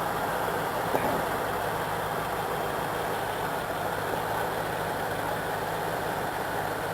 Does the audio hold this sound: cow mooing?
no